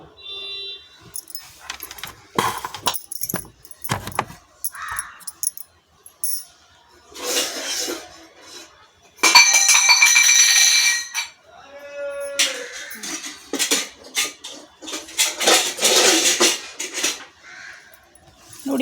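Garlic rice (chitranna) being stirred and mixed in a pan, with scattered scraping and clinking strokes of a spoon, some rustling bursts and loud stretches, close and irregular, with no talk.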